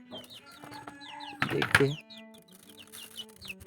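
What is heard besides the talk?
small chickens clucking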